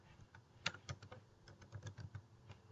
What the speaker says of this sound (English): I'll come in and I will type